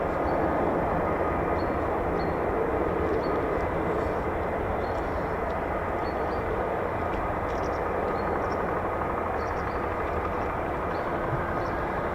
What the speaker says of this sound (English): So I can hear F-35s on the move.